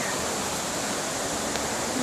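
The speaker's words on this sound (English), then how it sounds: "there's the river down there" Rushing water of the Cutilay river flows far below a hillside through brush, heard as a steady, dense broadband roar that stays even throughout, with no voices.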